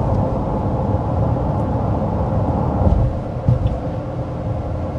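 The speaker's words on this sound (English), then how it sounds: "I also think you can kind of hear the all-terrain tires a little bit" Steady low rumble of all-terrain tire and road noise inside the cabin of a moving 2025 Honda Ridgeline, with a couple of faint bumps and no talking.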